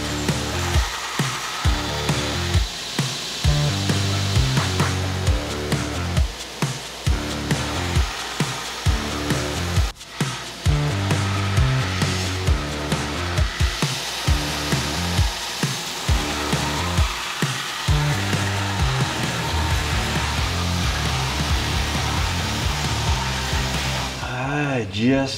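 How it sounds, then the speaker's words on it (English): A belt sander grinds a forged Bowie knife's steel blade, a loud continuous whirring drone with rhythmic dips as the blade is pressed and lifted, running steadily for the whole stretch. "I'm gonna go over to the belt sander right now and see if I can get these marks smoothed out"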